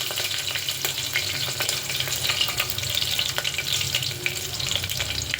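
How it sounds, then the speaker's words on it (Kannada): Five green chillies fry in hot oil in a pan: a continuous, fairly loud crackling sizzle with small pops throughout, no talking. "ಫ್ರೈ ಮಾಡೋಣ. ಮೆಣಸಿನ್ಕಾಯಿ ಹಾಕ್ತೀನಿ."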